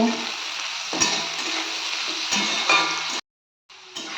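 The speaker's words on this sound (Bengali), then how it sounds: "লবণ দিয়ে একটু ভালো করে ভেজে নেব" Chopped vegetables sizzle and crackle in a hot pan with salt for fried rice, a steady fry with a few louder stirring scrapes and a short silent break near the end.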